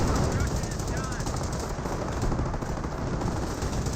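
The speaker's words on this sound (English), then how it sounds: "Rifle squad receiving quite a bit of fire there." A rifle squad in Company of Heroes comes under dense, continuous machine-gun and rifle fire, with rapid overlapping shots forming a loud, unbroken rattle.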